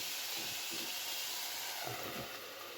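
Chicken liver stewing in a covered pan with onions, a steady close hiss of simmering steam throughout, with faint soft bubbling pops underneath.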